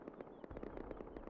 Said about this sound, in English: a lot of gunshots